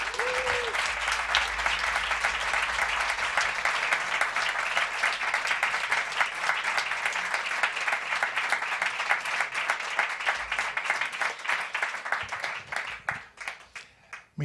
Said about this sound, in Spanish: Un aplauso para ese hombre.